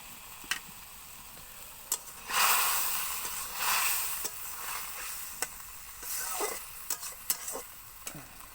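Small fried fish go into a simmering curry with bitter gourd and eggplant; quiet bubbling and swelling bursts of sizzle mix with scattered sharp clicks of stirring.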